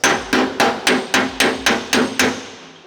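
Nine sharp metallic hammer strikes on a steel panel backed by a dolly on a 1984 Porsche 911, evenly spaced and ringing brightly, each decaying quickly before the next blow.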